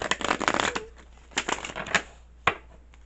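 Cards being riffled and shuffled close by, a quick flurry of papery flutters followed by a few separate snaps and taps.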